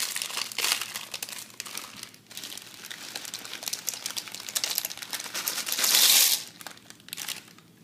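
A small plastic pouch of pasta sauce for a Hamburger Helper meal crinkles steadily as it is handled and torn open, with a louder, denser burst of crackling near the end.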